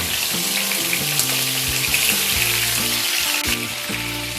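Medium-size bone-in chicken pieces, about 500 grams, sizzle in a pan over a medium-high flame, a loud, steady crackling hiss that runs throughout with faint music beneath.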